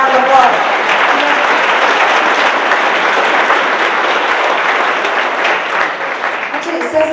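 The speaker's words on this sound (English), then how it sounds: "give Cesar a round of applause." An audience at a lecture series applauding Cesar Chavez with steady, full applause that fills the room at an even level throughout, with a voice faintly audible beneath the clapping.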